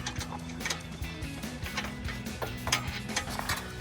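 A wrench ratchets as it tightens the nuts on a FOX Performance Series 2.0 IFP steering stabilizer on a Jeep Gladiator JT, giving a steady run of close mechanical clicks.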